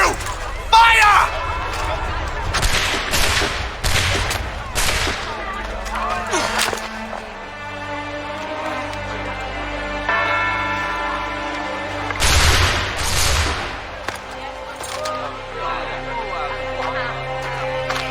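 Musket volley fired in Assassin's Creed III, a rapid cluster of loud cracking shots early on and another burst later, with battlefield clatter, game music and voices between.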